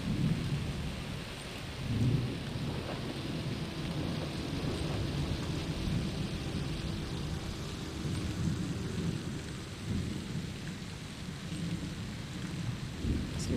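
Steady rain with rolling thunder in the video game Season: A Letter to the Future, a continuous dense wash of rainfall with low rumbles underneath, no voices.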